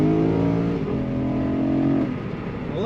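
A 2013 BMW M3 Lime Rock Edition engine revs loud and close, its steady harmonic drone rising and falling as it holds and shifts, then dropping off before a fresh climb at the end; no one talks.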